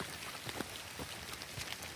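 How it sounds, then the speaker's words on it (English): Light drizzle falling on a wet hiking trail in Pinnacle Mountain State Park, Arkansas: a faint, even hiss of fine rain with scattered soft droplet ticks throughout. "Got a little bit of drizzle coming down still"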